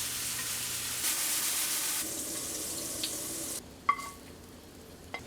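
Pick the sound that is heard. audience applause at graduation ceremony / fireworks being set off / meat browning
meat browning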